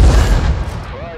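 A single heavy boom from the SU-122A self-propelled gun firing in a video game, loud and close, with a broad low rumble that decays quickly under a brief voice.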